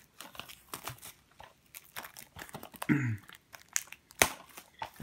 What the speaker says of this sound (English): got my knife. So we're gonna cut the plastic off